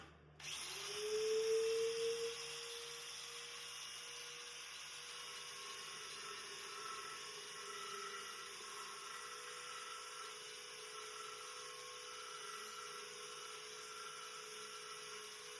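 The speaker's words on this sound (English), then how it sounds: "Let's get in here with the sander and try and get this clean up the best we can." A power sander grinds and cleans a Land Rover Defender chassis outrigger, spinning up with a rising whine and then running at a steady, fairly faint drone throughout.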